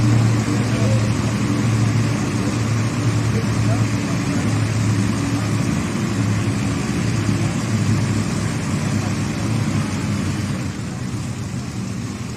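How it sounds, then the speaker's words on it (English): Modified pulling tractors fire up and rumble in the background at a 2024 truck and tractor pull, a loud, steady, low engine drone that runs throughout beneath a voice. "As we hear in the background, some of the modified tractors firing up."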